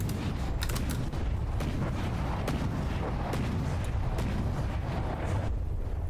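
Battleship turrets firing full broadsides in the game From the Depths, a dense, continuous barrage of heavy booms and cracks mixed with rumbling impacts and mechanical creaks.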